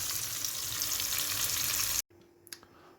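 Tomatoes fry in hot oil with a loud, even sizzle close by, which cuts off abruptly into near quiet broken by a couple of small clinks.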